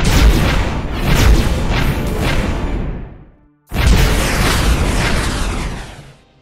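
Ship weapons firing in the space strategy game AI War Fleet Command: dense, loud booming blasts with a whooshing tail, a sustained barrage that drops out briefly and then resumes just as heavy.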